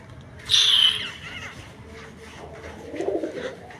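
Pet pigeons kept at home coo softly in a brief low murmur near the end, after a sharper, higher chirp or flutter a moment earlier, over a quiet background.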